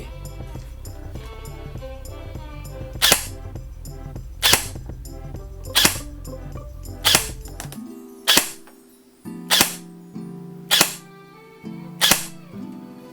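Single shots from an Evolution Ghost2 XS EMR Carbontech ETS II airsoft gun fired through a chronograph, about nine sharp close cracks spaced roughly a second apart over a background hum that drops out midway.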